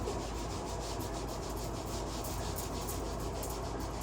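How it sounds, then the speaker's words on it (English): Hand rubbing up and down along a forearm, a steady close brushing friction of skin and sleeve that holds constant with no pauses or talking. "take the right hand and start to rub that left arm. Just up and down on the forearm, on the elbow, on the bicep and tricep"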